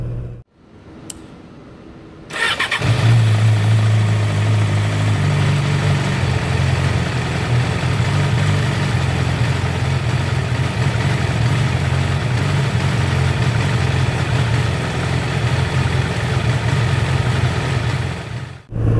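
After a quiet start, a Yamaha YZF R6 motorcycle with a jerking and idling problem starts up and idles with a steady, low mechanical rumble that runs on unchanged until a sudden cut near the end.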